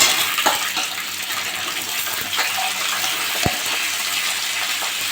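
Broad beans and potatoes tipped into a pan of frying onion for a Bengali chochori with green chillies, a loud steady sizzle with a few scraping stirs, close up.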